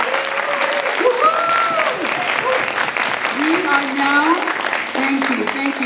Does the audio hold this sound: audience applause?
yes